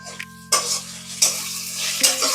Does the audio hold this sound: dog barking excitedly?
no